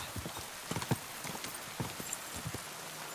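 A horse gallops in the video game Kingdom Come: Deliverance II, its hooves a quick, uneven clip-clop of soft thuds at moderate level over a background wash, with no talk.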